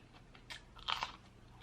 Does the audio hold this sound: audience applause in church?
no